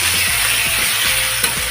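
Spices with green chillies, salt and turmeric sautéing in a pan, a continuous close sizzle with soft scraping stirs, and no talk.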